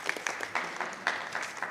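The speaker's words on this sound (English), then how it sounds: "Round of applause." Brief, fairly faint applause at a school board meeting, a small scattering of hands clapping in an uneven rhythm for under two seconds.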